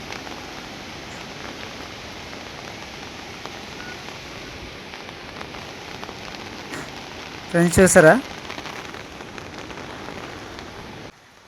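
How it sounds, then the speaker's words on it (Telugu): Steady rain with wind hisses throughout, close and constant, while someone speaks briefly near the end. "కొంచెం గాలితో కూడా వచ్చేసింది వర్షం"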